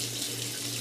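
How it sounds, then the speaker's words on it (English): A faucet runs in the Age of Enigma: The Secret of the Sixth Ghost puzzle game, giving a steady, even hiss of flowing water throughout. "Water, I turned you off."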